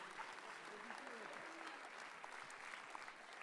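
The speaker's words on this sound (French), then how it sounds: "Simon Bessin, qu'on va applaudir bien fort, s'il vous plaît" An audience at a graduation ceremony applauds with steady clapping throughout, fairly distant and soft, while a voice speaks faintly at the beginning.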